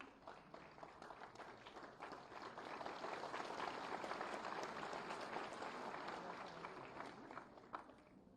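An audience applauds steadily at a certificate distribution ceremony for university students trained in coding and programming, with dense clapping that swells in the middle and holds for several seconds.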